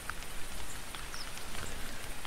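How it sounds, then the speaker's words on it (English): Rain falling in the hunting game The Hunter 2013, a soft, steady hiss of drops with occasional faint taps on surfaces, continuous and fairly quiet, no talk. "And now it starts raining."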